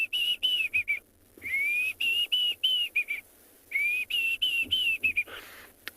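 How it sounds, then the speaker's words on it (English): A Diederik's cuckoo calls in a sunset safari setting with a series of clear, high whistled notes in quick bursts, pausing between phrases and repeating, close and distinct with no talk. "We've got a couple of cuckoo species here, and one of them is a Deirdrick's cuckoo"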